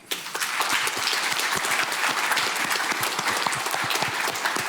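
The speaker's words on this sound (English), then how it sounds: "I think that's worth a round of applause" Audience applause at a property investment seminar, steady and dense for nearly five seconds, with many hands clapping close and evenly throughout and no talking over it.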